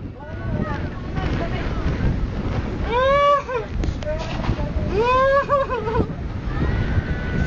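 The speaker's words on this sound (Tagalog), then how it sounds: "Ang lakas ng hangin." Strong gusty wind buffets the microphone with a constant roar, while people talk over it.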